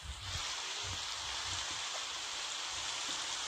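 Steady rain in a Roblox camping game, a dense even hiss of falling drops that stays constant and fairly loud, with no voices.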